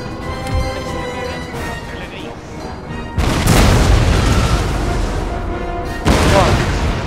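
Heavy artillery cannon booms from a Napoleon: Total War battle roll out in deep, loud blasts, a sustained barrage swelling midway and another heavy boom near the end, with someone talking in Vietnamese over the din.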